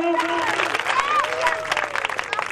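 Audience applause at a Punjabi stage gathering: a crowd claps steadily through the whole stretch while a voice carries over the top.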